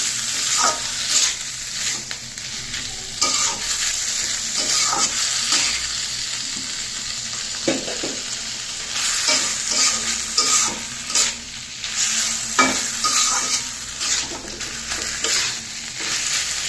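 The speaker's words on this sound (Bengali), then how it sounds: "এখন অল্প সময়ের মধ্যে শাপলা ভাজি হয়ে যাবে।" Salted water lily stems, already releasing liquid, fry in a pan with turmeric while a utensil repeatedly scrapes and stirs them, giving a close, steady sizzle broken by irregular clinks and scrapes.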